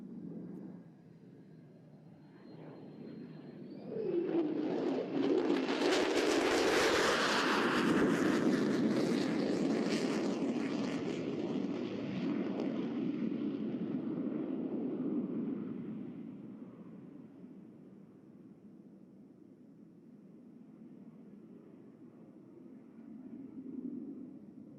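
An F-35C Lightning II fighter jet flying a four-point roll at a naval air show, its engine roar swelling from a distant hum into a loud, broad rumbling pass before fading back to a low drone.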